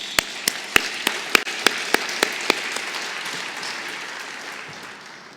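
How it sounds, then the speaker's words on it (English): A handful of sharp, loud individual claps ring out first, then a wider round of audience applause builds at a museum conference and fades gradually toward the end. "I really invite you to join me once again to applaud for our mutual connectedness"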